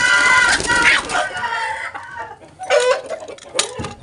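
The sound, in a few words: young hen chicken clucking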